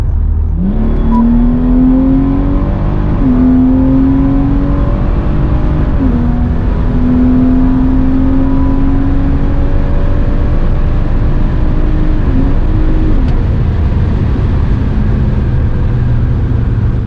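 A stock BMW 340i with the B58 turbocharged engine pulls hard under a long full-throttle run toward 130, its steady drone climbing in pitch with brief dips at each gearshift, loud and continuous from inside the car.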